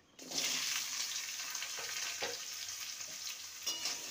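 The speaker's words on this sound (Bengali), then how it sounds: "ভালো করে সবজিগুলোকে ভেজে নেব" Vegetables fry and get stirred in a pan after a tempering of dried chilli and bay leaf for a leafy greens chorchori, a sudden loud hiss settling into steady close sizzling with occasional scraping strokes of the stirring spoon.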